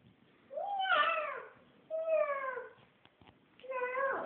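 A child imitates a cat's meow while reading the Dona Baratinha story aloud, giving three drawn-out, rising-and-falling meows with short pauses between them, close and fairly loud.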